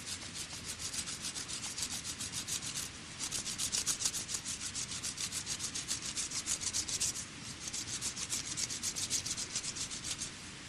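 A blade scrapes down a wooden stick during wilderness camping, making rhythmic rasping strokes that repeat steadily and close up, with a short pause partway through.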